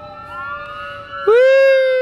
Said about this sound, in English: Can you hear the fire truck?